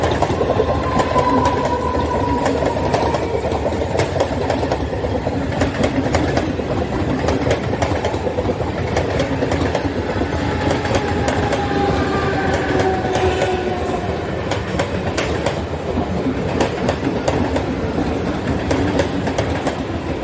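A Mumbai Harbour Line local train between Bandra and CSMT rumbles along steadily, with loud continuous wheel roar, rapid rail clatter and faint whining tones heard from inside the carriage, no talking.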